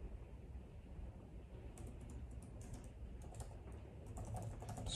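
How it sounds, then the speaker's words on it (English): Computer keyboard typing as a Tableau IF THEN formula is written: a dense, steady patter of fine key clicks over low background rumble, with bursts of sharper keystrokes through the second half. "Struggle with my typing out my words here today."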